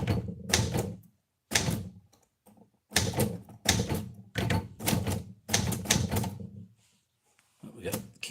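Bursts of fast, loud clacking from a typewriter whose keys stick, arriving in several rapid runs separated by short pauses, with a voice speaking in between.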